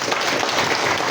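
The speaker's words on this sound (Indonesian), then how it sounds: "Kita beri aplaus untuk Pak Adi." An audience applauds for Pak Adi at an economics gathering, giving a steady, loud wash of clapping from many hands throughout.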